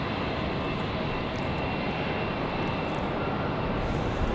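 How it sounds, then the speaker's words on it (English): An ATR 42-300 cargo turboprop arrives at Raleigh-Durham airport, giving a loud, steady engine roar with a broad rushing drone that holds throughout. "Mountain Air Cargo 7508 coming in from Wilmington. The ATR 42-300."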